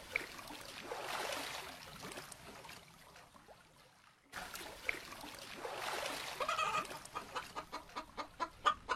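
Cartoon chickens cluck in quick, faint bursts, first in a soft cluster and then, after a brief break, in a series of sharper rhythmic clucks that grow denser toward the end.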